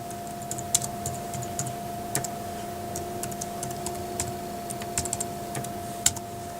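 Fingers typing a login and password on a computer keyboard, a quick uneven run of light clicking keystrokes close by over a faint steady electrical hum.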